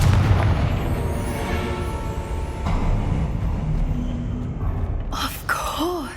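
The Confringo fire spell goes off in the video game Hogwarts Legacy as a rumbling explosion with a sustained boom, followed by brief whooshing and chiming spell effects near the end.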